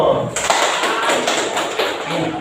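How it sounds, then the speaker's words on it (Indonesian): Applause from a group during a school coaching session, a dense clatter of clapping that swells in and holds steady for about two seconds, close and fairly loud. "Ya, aplaus dulu."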